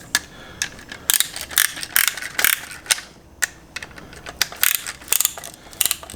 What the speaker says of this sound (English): we snug the piston ring compressor around it